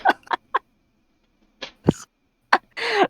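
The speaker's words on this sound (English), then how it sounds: "Was that a sneeze?" A short, sharp sneeze bursts out among scattered small sounds and a brief voice, close and fairly loud against an otherwise quiet room.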